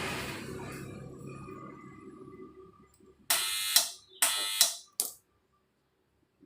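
A second-hand air compressor whose motor had cut out from overload protection being switched on again, giving three or four loud, harsh starting bursts that stop abruptly after a faint mechanical hum fades out.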